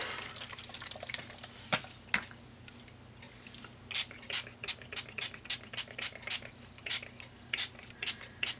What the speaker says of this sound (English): these are all Lindy sprays, by the way, too. So I'm just shaking it up right now.